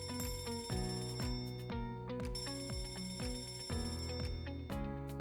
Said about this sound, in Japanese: エンジンの火災警報を確認したら、